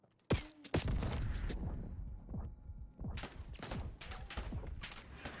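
Rapid gunfire in the video game Black Ops 6, bursts of sharp shots packed closely together, loud and close, with a short lull midway before another volley.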